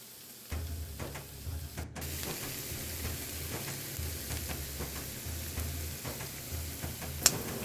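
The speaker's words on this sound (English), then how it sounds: "we're going to go ahead and add our chopped onion. We're going to want to cook the onion until it becomes translucent." Chopped onion sizzles and fries in a hot pan with a steady, close crackling hiss that starts abruptly and continues throughout, broken by occasional stirring scrapes.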